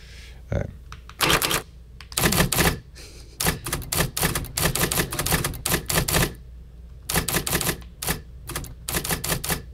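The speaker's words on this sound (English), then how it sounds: "this is exactly what the Selectric sounds like" Typewriter app on an iPhone sounding like an IBM Selectric: rapid bursts of sharp mechanical key clacks in quick runs with short pauses, close and loud, under a steady low background hum.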